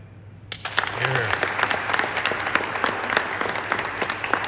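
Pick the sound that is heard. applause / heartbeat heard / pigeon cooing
applause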